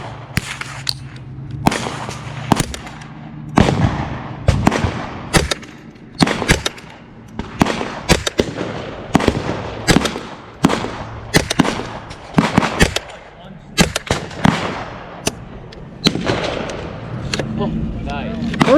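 Rifle shots from a Henry US Survival at an outdoor shooting range crack out sharply one after another in an irregular series of loud reports with echoing tails, and people talk between some of the shots.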